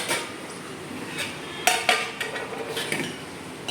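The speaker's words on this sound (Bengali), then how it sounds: "তাড়াতাড়ি করে একটু ধোবো এক এক করে থালা" Plates being washed one by one at a kitchen sink, with several clear clinks and clatters of dishware close by over a quiet background of running water.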